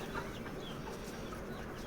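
Soft, continuous clucking from several village hens sitting on eggs in summer heat on a poultry farm, steady and low-level, with a faint background hum throughout.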